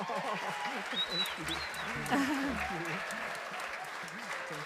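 Church congregation applauding their minister at a Unity service, steady clapping throughout with a few chuckles and a voice talking over it.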